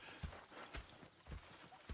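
Horses trotting in Red Dead Redemption 2 give a soft, steady clip-clop of hooves at a moderate distance. A few louder hoof strikes stand out against a faint outdoor background, and no one speaks.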